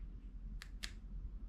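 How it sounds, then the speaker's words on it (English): Two quick mechanical clicks in close succession as a kayak power system switch turns on, faint against a low background hum. "I can hear the switch going on, hear it clicking"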